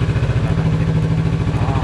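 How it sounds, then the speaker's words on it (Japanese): A Kawasaki Z650RS motorcycle engine idles close by just after starting, a loud, steady, fast-pulsing thrum with a regular beat and no speech. "じゃあエンジンをかけていきます"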